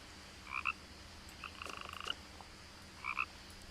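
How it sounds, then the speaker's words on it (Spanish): Faint frog calls in the game What Remains of Edith Finch: a short double croak, then a longer trilled rattle, then another double croak, alone over a low steady ambient hum. "Está sonando una rana que..."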